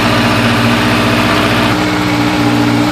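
A Honda CB1100F motorcycle engine idles steadily during a carburetor sync, a loud, close, even four-cylinder thrum with a slight shift in tone partway through and no talk.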